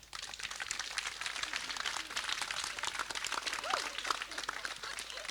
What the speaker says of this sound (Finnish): annetaanpa heille aplodit